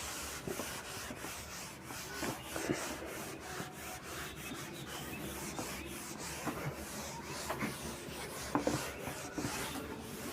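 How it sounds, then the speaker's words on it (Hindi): Writing is rubbed off a classroom board with steady, close scrubbing strokes, a continuous rhythmic swishing friction that continues for several seconds without talk. "तो पहले इसको जब रब आउट करते हैं"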